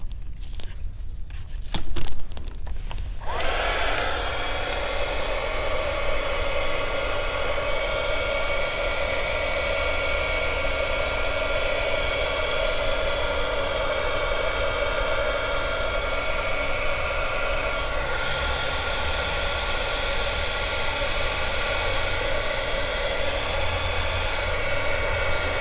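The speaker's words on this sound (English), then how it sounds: "we're going to use our heat gun to kind of distribute and blend the colors a little bit" A heat gun blows hot air over colored resin on a geode-style plaque, a steady loud broadband whoosh with a faint motor whine that runs unbroken for over twenty seconds after a brief rustle at the start.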